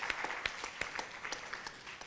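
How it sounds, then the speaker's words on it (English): Applause from an audience at a Bharatanatyam arangetram, honouring the speakers after their speeches; steady, fairly quiet clapping from a modest crowd lasting about two seconds, with a few sharper individual claps standing out. "Give them a round of applause, please."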